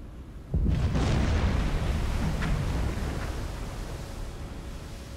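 A torpedo explodes against a freighter in the submarine game Silent Hunter 4, a sudden deep boom that swells into a long rumbling roar and slowly fades, loud with no talk.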